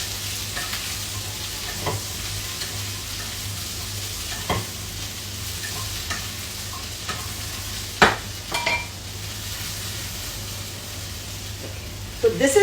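Okra (bhindi) fries on high heat in a pan, a soft continuous sizzle with occasional scraping stirs and clatter, a low background hum underneath and no talking.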